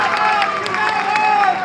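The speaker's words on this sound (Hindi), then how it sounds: "मैं चाहूंगा तालियां बजा करके" Crowd at an outdoor political rally applauding and cheering, a dense, steady wash of clapping and voices throughout.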